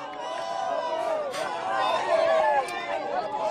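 A crowd greets the President on his first walkabout after his inauguration, with a busy babble of many voices, calls and cheers swelling slightly and continuing throughout.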